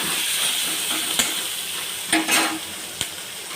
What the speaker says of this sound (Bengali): এবার মাছের তেলেই আমি পেঁয়াজগুলো দিয়ে দিলাম